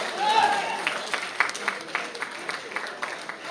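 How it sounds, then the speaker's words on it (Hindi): Applause for the senior citizens at an agro company seminar in India: a sparse patter of individual claps, moderately near, rising from a brief murmur of a crowded hall and continuing steadily throughout. "दोस्तों जितने भी सीनियर सिटीजन है उनके लिए जोरदार तालियां होनी चाहिए"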